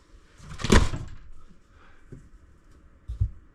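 A small plastic door with a tab is opened by hand. One sharp click-clack comes first, then fainter plastic taps and a final soft snap.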